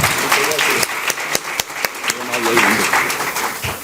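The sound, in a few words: audience applause welcoming speaker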